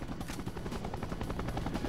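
Helicopter from the N64 game The World is Not Enough, a steady dense rotor drone with rapid chopping pulses, loud and continuous throughout with no talk over it.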